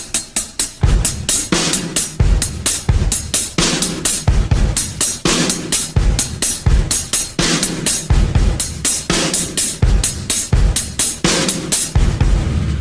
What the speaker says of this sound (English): now we're just going to fill in the missing 16th note on the hi-hat